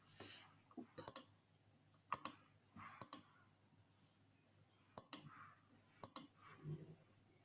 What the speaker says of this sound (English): and you're going to type